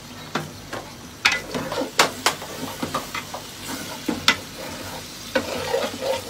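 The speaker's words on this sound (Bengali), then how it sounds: "টক দই দিয়েছি, এখন এটাকে নাড়াবো আমি।" Meat masala with sour yogurt being stirred for biryani, a spoon scraping and clacking in a pan in irregular strokes over a steady background sizzle.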